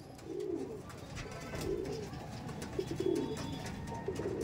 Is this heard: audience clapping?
no